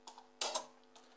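A few quick, light keystrokes on a computer keyboard, in two small clusters with short gaps, close and quiet with no talking.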